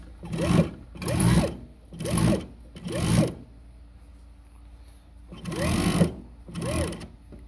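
An industrial Juki MF-7923 sewing machine stitches in short bursts, six loud rhythmic runs of whirring needle action separated by brief pauses, close and clear with no talk.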